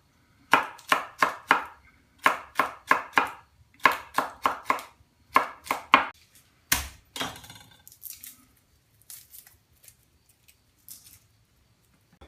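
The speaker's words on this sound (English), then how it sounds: "But at least you can cut it in nice even dices." Knife dicing an onion on a cutting board: close, sharp chops in quick bursts of four or five strokes, a louder knock midway, then sparser light taps trailing into quiet.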